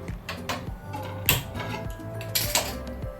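A gas stove burner being lit to roast an eggplant (brinjal) gives a run of quick dry clicks and ticks, with a louder burst near the middle and another toward the end, over a low steady background hum.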